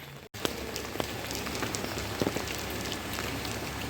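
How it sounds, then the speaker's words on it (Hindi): Steady rain falls at a ghat in Haridwar beside the flooded Ganga, a dense continuous patter of drops on hard surfaces with scattered sharper splashes, fairly close and unbroken throughout. "तो बारिश भी हो रही है,"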